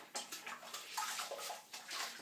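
A face cloth full of shaving lather and beard hair is rinsed in water, with close, quiet sloshing and splashing in short repeated swishes.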